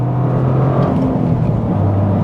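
Engine of a Toyota GR Corolla humming steadily at close range with a low, even drone and slight throttle swells, no talking.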